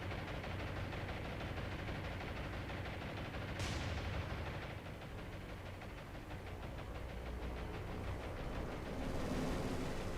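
Rapid 20 mm anti-aircraft gunfire in the naval combat game War on the Sea, aboard a battleship under Japanese dive-bomber attack; dense, continuous rattling bursts fill the whole stretch with no talk.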